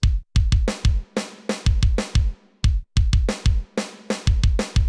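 Punchy electronic drums pound out a steady pattern, deep booming kicks alternating with sharp bright snare hits, loud and upfront with no voices.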